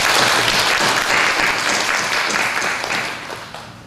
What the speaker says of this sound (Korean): 축하의 박수 한번 부탁드립니다.